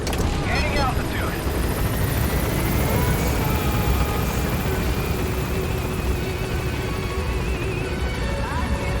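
A helicopter in the video game Metal Gear Solid V: The Phantom Pain climbs steadily, its dense rotor and engine roar loud and continuous throughout with no break.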